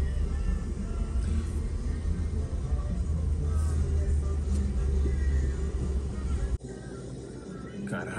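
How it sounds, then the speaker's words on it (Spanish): Steady road traffic rumbles along a seaside promenade in Mazatlán, a continuous loud low drone of car and bus engines that drops off sharply near the end. "mucha gente, mucho tráfico"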